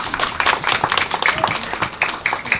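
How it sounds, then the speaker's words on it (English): A short round of applause from an audience at a World Kidney Day celebration in Kenya, scattered clapping that is moderately loud and steady for a few seconds. "Maybe you can give him a round of applause"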